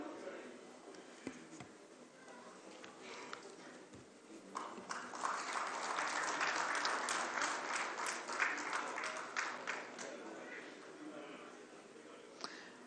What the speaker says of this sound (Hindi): अपनी भरपूर तालियों से हौसला अफजाई कीजिए